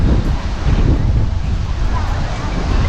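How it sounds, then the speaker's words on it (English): Strong coastal wind at a beach on Coco Cay buffets the microphone in a steady, low roar with gusty rumbling throughout, close and loud. "this is super windy"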